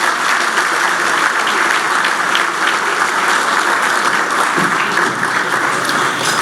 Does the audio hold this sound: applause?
yes